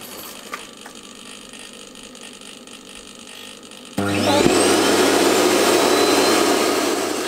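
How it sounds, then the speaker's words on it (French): A vacuum cleaner with automatic emptying starts up midway, jumping from quiet room noise to a loud, steady roaring whine that holds without pause, close to the microphone, with no voices. "Sa bonne puissance fait qu'il aspire très bien tout ce qui est poils d'animaux et tout ce qui est petits débris aussi"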